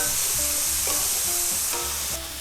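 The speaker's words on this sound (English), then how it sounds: "we're going to stir fry the beef" Beef stir-frying in a hot pan, a steady loud sizzle with occasional scraping stirs, no talking.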